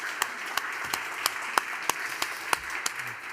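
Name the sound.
audience applause for a conference panel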